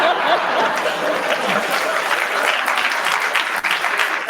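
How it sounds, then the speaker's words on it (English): An audience at a live debate on Christian versus secular morality applauds the debaters with dense, sustained clapping that fills the room, mixed with a few chuckles. "I hope that clap is for the... for the debaters, because that was excellent."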